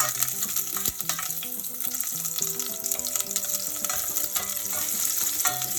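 Onion frying in a pot over a medium flame, a steady close sizzle with scattered crackles and a few soft metallic stirring clinks throughout, no talking.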